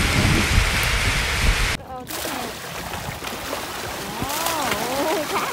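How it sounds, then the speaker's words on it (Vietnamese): Heavy rain pours steadily around a moored barge, a dense hiss with splashes, after a sharp break into lighter patter while a voice speaks over it. "Mưa lớn lên đi"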